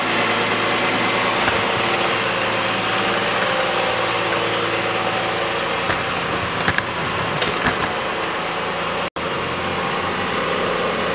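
A 2004 Toyota Harrier MCU30 engine idles steadily at about 1000 rpm after a throttle body replacement, with a constant hum, close by, a brief cut near the end and no talking.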